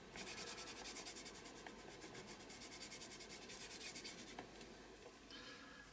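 A cloth rubbing paint across an art journal page: close, soft, rhythmic scrubbing strokes repeat steadily back and forth at an even pace, with a faint tap near the end.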